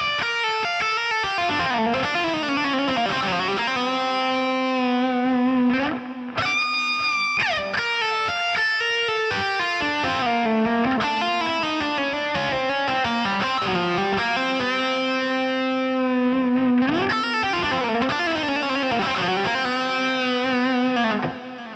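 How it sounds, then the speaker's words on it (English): Heavily effected, distorted electric guitar plays a flowing legato lick near the end of a solo, smooth hammered and pulled notes blending into long sustained tones, loud and continuous with no talking. "lick based on the legato technique, and it sounds like this."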